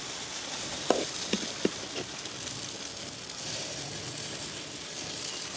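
Batter dropping into a hot oiled paniyaram pan, a few quick ticks and pops at the start over a steady, soft sizzle that continues throughout.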